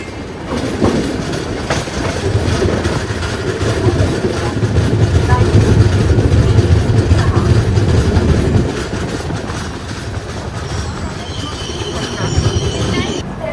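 The Grand Trunk Express rumbles steadily along the rails, its low continuous roar with rhythmic wheel clatter, while people talk nearby over the noise.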